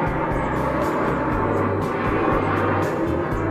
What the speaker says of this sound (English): We get some huge planes coming over us now.